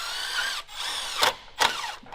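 A power drill boring holes to bolt a part in place gives a steady high whine. It cuts out briefly and then restarts, with two sharp bursts of effort as the bit bites. No speech.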